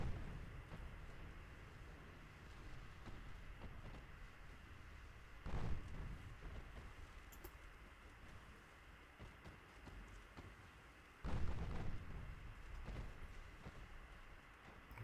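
Naval guns in the Ultimate Admiral Dreadnoughts battle game fire twice, each a distant, muffled boom rising above a steady low wash of sea and wind ambience.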